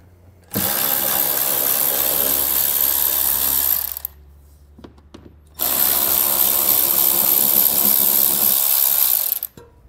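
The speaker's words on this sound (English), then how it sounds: "We're going to be removing the two fasteners here." A ratchet spins out two fasteners (7/32-inch or 5.5 mm) at the rear corner of a 2019 Ford during hitch installation: two loud, close, sustained runs of clicking, each about three to four seconds, separated by a short quiet pause.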